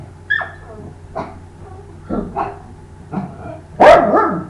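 Dogs indoors bark in a series of sharp, separate yaps and bow-wows, several spaced bursts over a few seconds, ending in a louder, longer bark close by.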